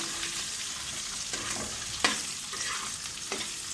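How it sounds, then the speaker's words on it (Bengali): Boiled potatoes being stirred in a frying pan with a steady sizzle underneath, broken by a few scraping strokes of the spoon, one sharper clack near the middle, all close and moderately loud with no talking. "নাড়িয়ে নেবো আলু সেদ্ধটা।"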